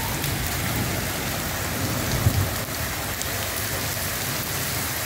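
Heavy rainstorm with hail in Quetta: a dense, steady roar of pouring rain that stays loud and even throughout, with no voices.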